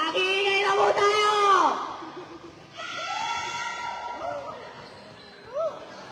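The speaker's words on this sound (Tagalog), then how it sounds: "Nag-iingay na po tayo!" Supporters at a summer basketball league game cheer, yell and whoop in a loud, echoing crowd roar, with a voice shouting over the noise and the din rising and falling in bursts.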